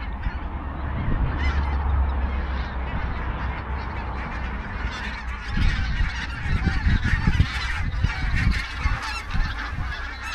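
A large flock of geese flies over during a calm fishing trip, a dense chorus of overlapping honks that grows louder and busier toward the end, heard fairly near outdoors.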